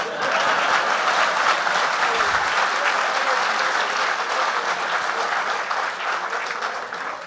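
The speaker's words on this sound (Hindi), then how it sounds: "मेरे स्वागत में दोबारा जोरदार तालियां बजाएं।" Audience at a Hindi comic poetry gathering (kavi sammelan) breaking into loud, sustained applause, dense steady clapping from a large crowd that holds for several seconds and eases slightly toward the end.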